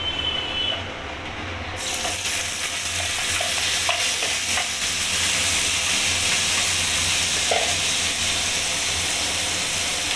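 Chopped onion and pointed gourd hit hot tempering in a wok with a sudden loud sizzle, settling into a steady, close frying hiss with faint stirring clinks throughout.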